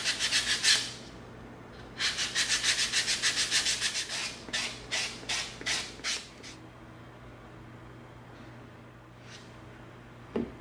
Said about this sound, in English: Now let's come in with our 220 sanding stick.